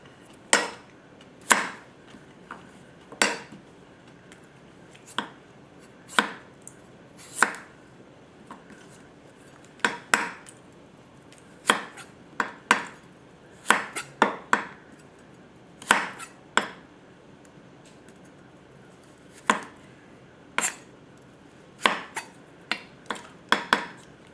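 A Yamashin White #1 210mm gyuto knife slices a carrot on a cutting board, each cut a sharp, crisp knock repeated at uneven intervals over a quiet background, close and fairly loud.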